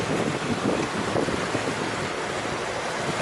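Steady wind gusting over a boat on open water at Lake Powell, a continuous broadband rush with slight swells in intensity, no voices.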